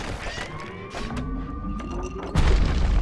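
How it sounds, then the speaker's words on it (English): A hand grenade goes off in the video game Bastion, a sudden loud low boom near the end that follows a stretch of busy game sounds with tonal music, and the rumble hangs on afterward. "Hand grenade, huh?"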